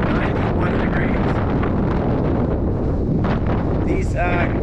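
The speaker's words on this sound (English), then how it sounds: "It's like super windy, but it's 91 degrees." Strong wind in Death Valley on a hot 91-degree day buffets the microphone with loud, continuous roaring gusts, while a voice speaks faintly beneath the rumble.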